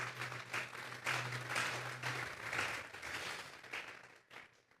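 Church congregation gives a strong round of applause to the Lord during a sermon: steady clapping from a crowd lasting several seconds, moderate in level and fading at the end.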